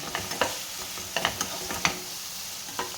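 Tomato rice with spices being stirred in a pan, spoon scraping and clinking in a few distinct strokes over a soft, steady sizzle, close and moderately quiet with no talk.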